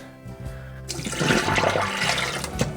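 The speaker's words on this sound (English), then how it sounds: "putting some hot water on this liver" Hot water gushes from a kitchen tap onto frozen liver, a loud rushing splash starting after a brief quiet thump and continuing steadily to the end.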